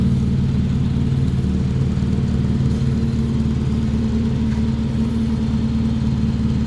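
A 1967 Austin Mini 998 Cooper, a road-racing car on SU carburettors, idles steadily up close with a continuous low engine rumble and no voices.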